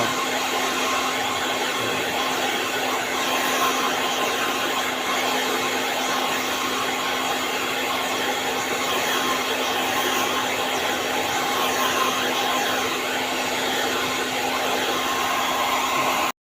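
A hair blower runs steadily and loudly throughout, a constant whooshing hum with a faint tonal whine, no voices over it.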